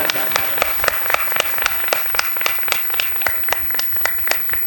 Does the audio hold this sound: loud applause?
yes